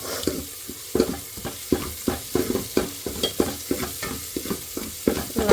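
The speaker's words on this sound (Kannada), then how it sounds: "ಕೈಯೇ ಬಿಟ್ಟಿಲ್ದಂಗೆ ಬಾಡಿಸ್ತಾನೇ ಇರೋದು ಆಗಿದೆ 10 ನಿಮಿಷದವರೆಗೂ" Tomatoes sautéing for rasam over a high flame, a spoon scraping and stirring the pan in quick repeated strokes over a soft, steady sizzle, close up.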